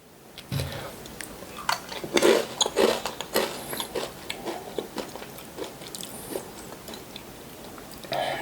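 Close, soft chewing and biting of mala-flavored Sindang-dong style tteokbokki, a run of wet, sticky chews and small crunches over several seconds with no talking.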